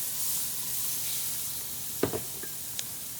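Green peppers go into a dark roux in a pot, giving a quiet, steady hiss with a few brief clicks and a short sizzling burst partway through; no talk.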